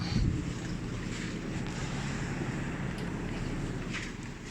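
Water circulates inside a repaired Iwata industrial air cooler with a replaced pump, a faint steady wash of rushing and splashing over a low motor hum, close and continuous.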